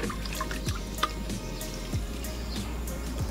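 Water poured from a glass onto soil in chili plant polybags, a soft, steady trickle with light drips and splashes, close and fairly quiet, with no talking.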